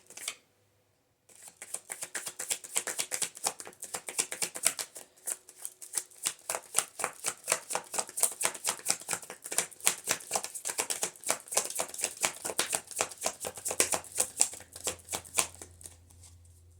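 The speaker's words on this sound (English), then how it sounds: "as I'm shuffling and looking at these cards" Cards being shuffled over and over in quick riffling bursts, close up and crisp, with a short quiet pause at the start.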